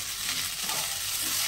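Onion sizzling as it goes into a pan of frying flat beans and new potatoes, a close, steady crackle and hiss with faint stirring and no talk.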